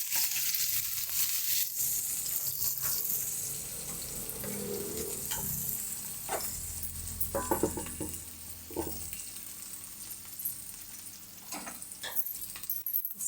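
Chopped onion frying in a hot pan with a pinch of asafoetida, continuous close sizzling with occasional stirring clinks and scrapes.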